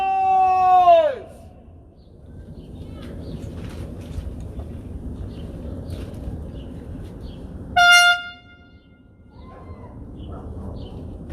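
Two long car horn blasts, one at the start and another midway, sounding over a low outdoor rumble of traffic and distant voices.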